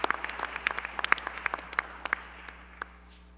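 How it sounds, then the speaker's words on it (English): A small audience at a school board meeting gives a round of applause for social workers, sparse distinct claps that thin out and stop. "will everyone please join me in a round of applause for our social workers"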